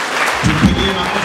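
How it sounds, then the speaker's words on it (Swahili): A church congregation claps at a wedding, a brief burst of dense applause mixed with a voice speaking over it. "Tumpigie makofi."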